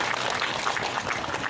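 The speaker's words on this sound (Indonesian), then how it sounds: "Tepuk tangan untuk beliau." A ceremony crowd claps at an outdoor launch of a model modern-farming village in Matajang, Bone, with a government minister present. The applause is a dense, steady patter at moderate volume throughout the short stretch.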